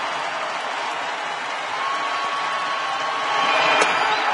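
A baseball stadium crowd rises to its feet and cheers during a Rockies at Dodgers game. The sound is a broad, steady roar that swells louder near the end, heard from a distance with no talk over it.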